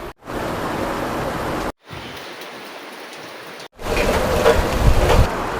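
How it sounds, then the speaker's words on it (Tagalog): Heavy rain pouring down from a dark sky, a loud dense hiss of downpour that cuts out briefly twice and returns even stronger, with no voices. "Sobrang lakas ng ulan."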